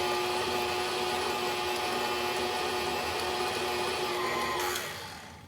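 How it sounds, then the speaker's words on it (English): Electric mixer whirring steadily as it beats unsalted butter for nut kolachy cookies, a constant close mechanical drone that winds down near the end. "I'm mixing the butter, and it is unsalted butter."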